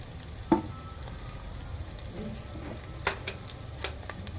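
Vegetable curry frying in a pan as turmeric is added, a low steady sizzle with a few sharp stirring clicks and scrapes, nearby and without speech.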